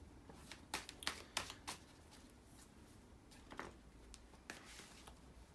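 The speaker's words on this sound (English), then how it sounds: "So let's shuffle the cards," Tarot cards being shuffled and riffled up close, a series of quick sharp bursts clustered early, then a few more scattered riffles against a quiet room.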